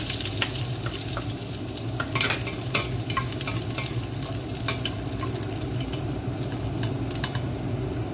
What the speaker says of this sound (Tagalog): Gigisa na tayo.